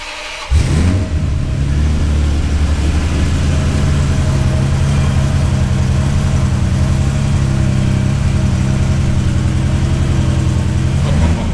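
A 1990s Italian supercar engine idles steadily and loud for the whole stretch after a sharp start, a deep, even rumble with a constant low throb and no talk over it.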